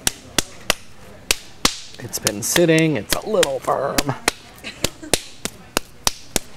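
A lump of about 3.5 pounds of pottery clay is banged around, giving a dozen sharp close thuds in an uneven rhythm, with a person talking briefly in the middle.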